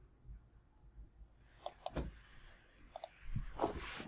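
A computer mouse clicks a few times in a quiet room, each click short and crisp, some in quick pairs.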